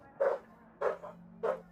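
Dogs fighting give three short, evenly spaced barks, sharp but fairly faint and distant, with quiet gaps between them.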